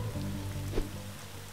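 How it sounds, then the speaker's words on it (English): Steady rain falls in the zombie strategy game Atom Zombie Smasher, a soft continuous patter with low droning game tones beneath it and one brief thump near the middle. "And it's lovely and raining."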